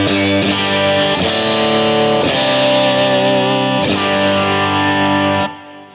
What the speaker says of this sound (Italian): Questo è il nostro pick-up al ponte, lo switchiamo, quindi tiriamo su il nostro push and pull e lo facciamo suonare come single coil.